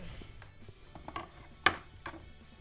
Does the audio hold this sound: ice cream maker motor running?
yes